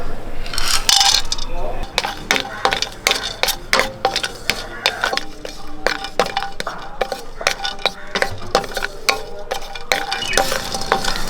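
Asafoetida being stirred and roasted in a pan while making homemade sambar powder: a steady run of scraping, clinking spoon strokes against the pan over a soft sizzle, close and fairly loud throughout.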